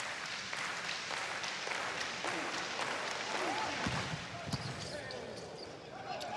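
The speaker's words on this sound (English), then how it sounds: "Fans engaging in the Viking clap." Fans in an arena at a men's college volleyball match clap together in a steady, evenly spaced rhythm over a crowd murmur, with a commentator talking throughout.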